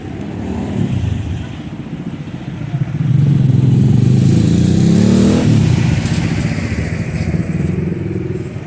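Compact street traffic in La Trinidad, Benguet, Philippines: engines idle and rev nearby as a motorcycle swells past loudly mid-way, with continuous vehicle rumble throughout.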